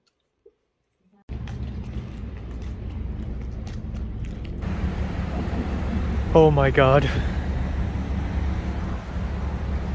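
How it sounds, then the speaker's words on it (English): Steady road traffic in a traffic jam, a constant low engine rumble and hum that swells partway through, with a brief squealing brake-like creak near the middle and a person exclaiming over it. "So noisy, Jesus Christ. And the traffic jam"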